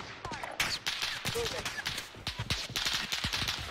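Rapid bursts of automatic gunfire from a fire tower in a video game, sharp repeated shots crackling densely over a busy background.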